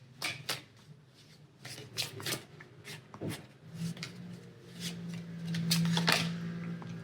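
Tarot cards being shuffled for a reading, a series of close riffling and flicking bursts with soft handling noise in between, no speech.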